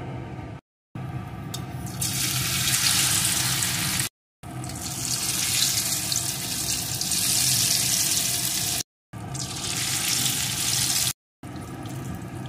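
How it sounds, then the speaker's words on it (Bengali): Banana-flower dhoka fritters sizzle and spit in hot mustard oil, a steady loud hiss of frying that swells and settles, broken by a few brief silent gaps. "এবার আমি ওই ধোকাগুলোকে একটা একটা করে দিয়ে প্রথমে ভেজে নেব।"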